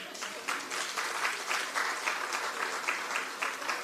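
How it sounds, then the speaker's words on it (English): Audience at a town hall meeting breaking into applause, a steady, fairly loud round of clapping with sharp individual claps standing out, heard alone without talk. "I thought I'd get a clap for that."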